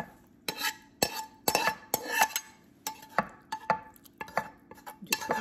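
Big spoon scraping a collard greens mixture out of a container, a quick series of sharp scrapes and knocks against the sides, close and loud, with no one talking.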